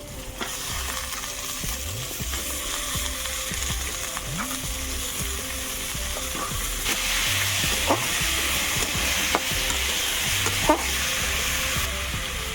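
Chopped onion and tomato sizzle and fry steadily in a pan as the base for a small river-fish curry, with a constant loud hiss and occasional stirring scrapes throughout, no voices.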